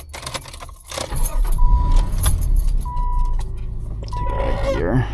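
2001 Nissan Pathfinder SE manual 4WD being started with keys: keys jangle close up, then the engine cranks and settles into a steady idle with repeating chime tones, a voice talking briefly underneath.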